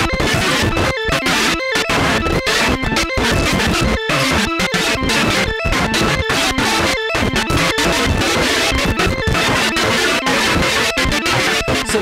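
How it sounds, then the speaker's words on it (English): A DIY triple PT2399 delay module pushed into a glitchy random mode gives off dense, loud, chaotic noise with stuttering dropouts and jumbled tones, continuous for twelve seconds. "you can push it even further until it gets to this random, strange, confused mode where it seems to jump in and out of dimensions, making some truly weird sounds"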